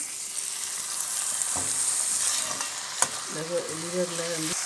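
Chicken liver stir-fries in hot oil with ginger and garlic, giving a steady close sizzle broken by scraping stirs and a sharp clink of the utensil against the pan.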